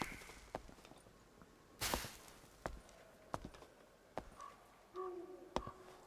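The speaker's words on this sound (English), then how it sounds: "Start to hear footsteps." Footsteps in the Dark and Darker game fall as sparse, sharp taps spread over several seconds, faint and fairly distant, with a few louder thuds and light whooshes among them.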